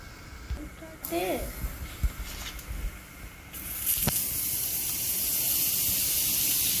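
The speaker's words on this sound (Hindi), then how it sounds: "ये देखिए जी मक्खन में बन रहा है यहाँ ज़बरदस्त किस्म का अंडा" Egg frying in butter in a pan at home, a hiss that swells into a loud steady sizzle for the last few seconds, with someone talking near the start.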